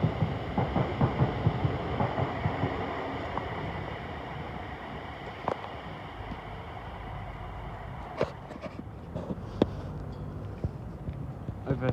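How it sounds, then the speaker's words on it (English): A London Northwestern Railway train passing at Primrose Hill, giving a sustained rumble with rhythmic clattering of wheels over rail joints and a few sharp metallic clanks, heard from trackside, with some talk. "The 1816 London Northwestern Railway service to Birmingham New Street"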